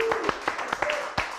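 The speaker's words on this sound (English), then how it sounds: "I'd like to give a round of applause for Mr. Richard Blackwood as well." Scattered audience claps for a guest on a TV show, a few distinct sharp hand claps spaced irregularly, fairly soft and thin rather than a full ovation.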